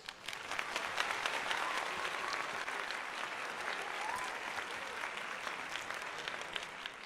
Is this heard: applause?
yes